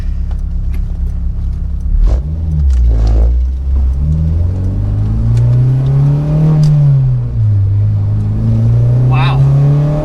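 Acura RSX engine pulling loud and close after a gear change, its revs rising and falling through the clip while people talk over it.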